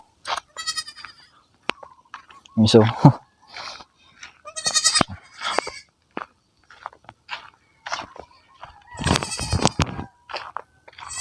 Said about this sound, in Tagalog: Binitaw niya yung mga kambing niya dito.